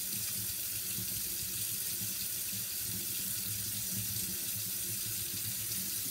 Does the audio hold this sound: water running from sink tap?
yes